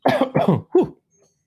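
Three harsh coughs close to the mic, the first two quick and heavy, the third shorter and throatier, then quiet.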